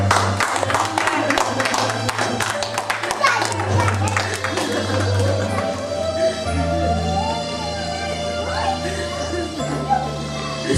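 A congregation at an evangelical crusade in Chartres, France, claps rhythmically and cheers to acclaim the Lord. The dense, steady crowd noise continues throughout over a low sustained hum, with scattered voices mixed in.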